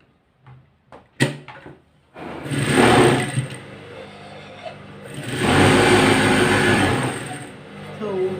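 A sewing machine runs in two steady bursts, each a few seconds long, stitching baby dress pieces together, with a few clicks and a brief voice before it starts.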